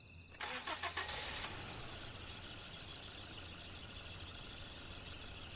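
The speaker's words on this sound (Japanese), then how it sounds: "それは一台の車がキャンプ場を出て行ったのだと知れた。" A single car starts up and pulls away from a campsite at night, an engine note rising then settling into a steady low rumble that carries on alone with no voices.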